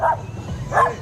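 Two short, fairly close dog barks or yips, one at the start and one near the end, from a cute dog on a street outside a temple, with a quiet pause between.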